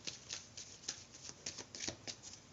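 Tarot cards drawn and shuffled from a deck: a quick run of soft papery flicks and riffles, close and quiet, with no talking.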